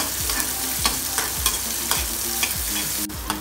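Raw mango pieces are stirred briefly in a pan over low heat for a Rajasthani chilli pickle. A spatula makes evenly spaced strokes over a constant frying hiss, with a sharp click near the end and no speech.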